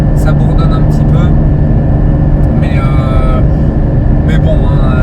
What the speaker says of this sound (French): vous entendiez vraiment le bruit pur du GT4